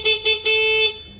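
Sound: motorcycle horn

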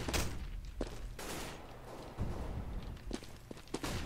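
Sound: gunshots in video game Counter-Strike on de_mirage

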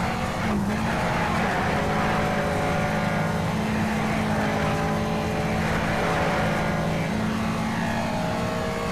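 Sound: car engine accelerating in the video game Need for Speed Shift

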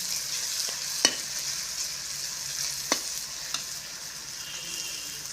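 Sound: onion and tomato masala frying for eggplant dish

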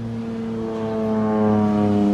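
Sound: crop-spraying plane flying overhead

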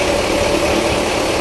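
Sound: boat engine running

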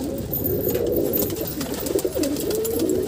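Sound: wild pigeons cooing

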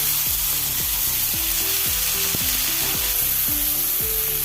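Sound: chopped tomatoes added to hot pan, sizzling

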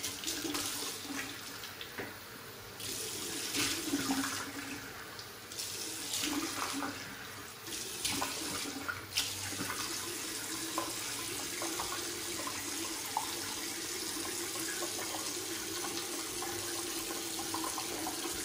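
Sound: tap water running into sink

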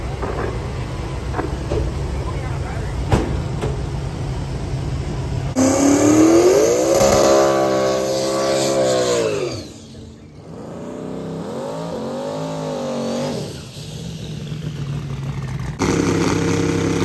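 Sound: Ford Pinto race car engine accelerating at raceway

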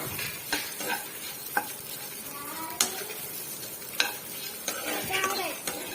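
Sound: frying spices and coconut in a pan, stirring

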